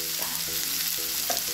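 Potato and pointed gourd frying in a pan, a steady close sizzle with a few soft stirring scrapes, no talk.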